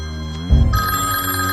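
A telephone bell starts ringing after a brief low thump, its bright metallic tone sustained and close for about a second, with another dull knock at the end and no talking.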